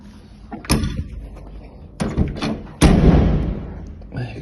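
A Morris Minor 1000 car door shut several times in a row, each close with a heavy thud and rattling hardware, followed by a softer bump at the end.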